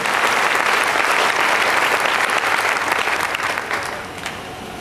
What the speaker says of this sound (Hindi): एक बार जोरदार तालियों के बीच।